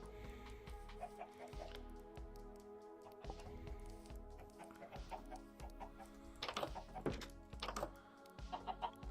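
Blocky Minecraft chickens give off clusters of clucks that come and go over continuous game background sound, with busier bursts near the end.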